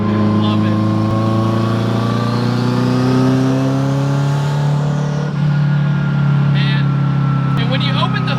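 A 1100 horsepower Subaru Forester drives with a loud, constant engine drone whose pitch rises steadily and then falls. Someone talks over the engine throughout.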